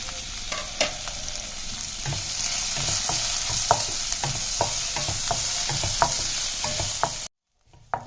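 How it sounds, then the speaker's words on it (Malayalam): Green chillies, sliced onion and curry leaves sauté in a pan for a lady's finger pachadi, giving a steady close sizzle with frequent scraping stirs, then a brief silence near the end. "ഇതിൻ്റെ കൂടെ അരിഞ്ഞു വെച്ചിരിക്കുന്ന പച്ചമുളക്, സവാള, കറിവേപ്പില ഇത്രയും കൂടി ഇട്ട് നമുക്ക് നന്നായിട്ടൊന്ന് മൂപ്പിച്ചെടുക്കാം."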